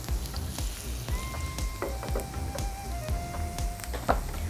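Bay leaves and garlic frying in olive oil, a steady close sizzle with soft crackles and a few faint utensil taps, no talking.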